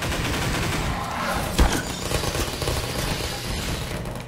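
Turret gunfire in the video game Half-Life 2, a continuous rattling burst of automatic fire with one sharper impact partway through, loud and steady without talk.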